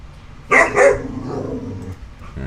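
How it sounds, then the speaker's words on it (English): A dog gives two sharp, loud barks close by, followed by a low trailing growl and a faint later yip in a quiet indoor room. "That's the dog."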